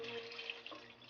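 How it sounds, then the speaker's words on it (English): Water pours steadily into a pot over bone-in stew beef for an okra stew, a continuous close splashing rush with no voices. "I'll cover it with some water"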